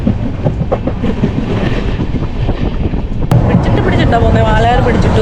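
The Tatanagar Express rumbles along the rails between Ernakulam and Katpadi, a loud continuous roar of wheels and rushing air with faint clatter, while a voice talks over the running train throughout.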